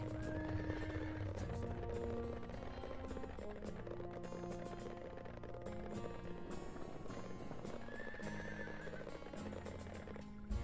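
Horse in the fantasy game Sacred Gold, whinnying near the start and again around eight seconds, with steady clip-clopping hooves under a continuous backdrop of game music.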